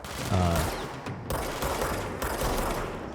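Rapid gunfire from shooting in the game Control comes in dense bursts of shots, with brief gaps between volleys, moderately loud and continuous across the short stretch.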